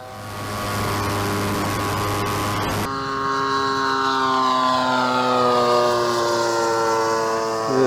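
A Seagull Models Cessna Agwagon radio-controlled model plane drones steadily overhead, its engine tone loud and continuous, then shifting and gliding down in pitch as it passes by.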